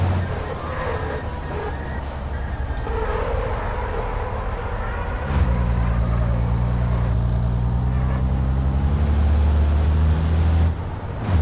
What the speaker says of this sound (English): Seems to be very slow accelerating this truck.